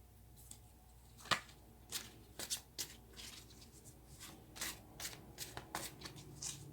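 Tarot cards shuffled by hand in a quiet room, a run of soft riffling bursts and crisp slaps at an uneven rhythm, close and fairly faint, with no talking.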